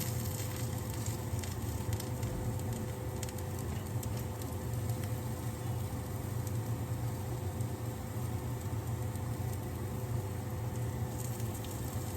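Salmon croquettes fry in olive oil in a pot, giving a steady, dense crackle and hiss that holds evenly throughout at moderate loudness, with no talking.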